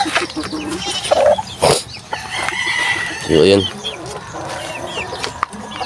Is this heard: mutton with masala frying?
no